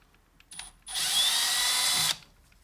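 A power drill spins out an alternator screw on a Mercedes E55 AMG, giving one steady high-pitched whir of about a second, preceded by a short brief blip, close and alone.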